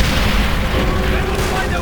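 Artillery fire in the video game Call of Duty: World at War, a dense, rumbling barrage of heavy booms running continuously and loud through the short span, with a voice talking over it.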